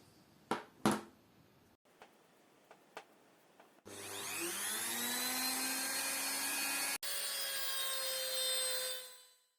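An INGCO MG 2008 mini rotary grinder polishing a very rusty lighter with metal polishing paste: a few taps and handling clicks, then a loud high-pitched motor whine spinning up, briefly cutting out, resuming and winding down, close and alone.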